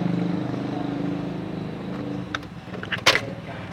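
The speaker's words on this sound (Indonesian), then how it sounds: "kita nyalakan dulu mesinnya ya" A manual 2005 Honda Jazz iDSI engine runs with a steady, even hum close by, followed near the end by a few sharp clicks and knocks.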